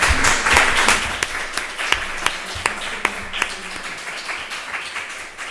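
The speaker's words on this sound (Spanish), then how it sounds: "Yo creo que un aplauso." Applause from an audience at a feminist research-paper competition event, a spread of scattered claps with a few sharper individual hand claps standing out, fairly steady and moderately loud across the room.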